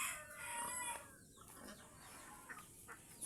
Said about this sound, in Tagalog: Galit yung manok. Akala niya kukunin ko yung itlog.